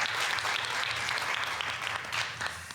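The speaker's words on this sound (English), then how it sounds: "Can we give our PTO President's Council one big round of applause for all they do?" Audience at a school board meeting claps steadily for a PTO President's Council, dense even applause lasting the whole stretch at moderate loudness with no talking.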